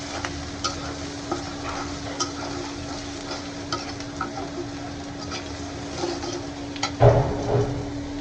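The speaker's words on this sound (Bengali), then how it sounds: "পেঁয়াজটা ভেজে নেবো।" Onion frying in a pan crackles steadily at close range while a spatula stirs it, with light scraping ticks and a louder clatter of stirring near the end.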